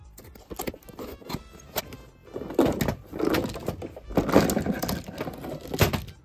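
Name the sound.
opening a taped mail package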